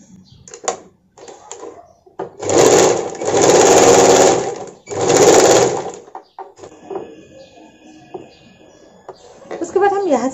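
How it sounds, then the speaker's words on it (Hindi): A sewing machine stitches a sleeveless blouse in two loud sustained whirring bursts, with someone talking between and around them and light handling clicks of fabric. "उसके बाद हम टैग सिलाई करना है।"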